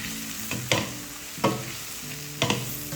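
Brinjal masala fries with spice powder in a pan, a soft sizzle broken by three sharp scrapes of a spoon stirring at roughly even intervals, close and without voices.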